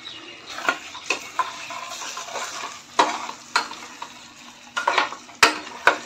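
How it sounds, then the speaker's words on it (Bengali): Spiced masala frying in oil is stirred in a pan, a close, soft sizzle punctuated by sharp, irregular scrapes and taps of the spoon against the metal. "আমি এখানে নেড়ে দিই"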